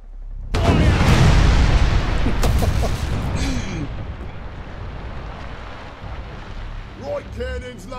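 Heavy ship cannons boom in the naval battle game Furious Seas, a loud rumbling broadside near the start that rolls off into a long decaying roar, with faint creaking and splashing after.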